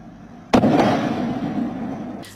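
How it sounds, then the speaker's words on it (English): A mysterious loud boom at night, like an explosion: one sudden deep blast that rumbles on and slowly fades over about two seconds, heard from a distance in a neighborhood with no voices. "She and several other neighbors say they hear similar booms every 6 months"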